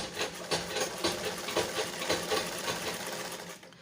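A sewing machine runs close by, stitching shirred fabric with a rapid even mechanical chatter and small rhythmic knocks, then stops at the end.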